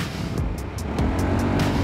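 BMW C400 GT motor scooter riding along with a steady engine drone and road rumble, a series of short regular clicks, likely the indicator, ticking over it; no talk.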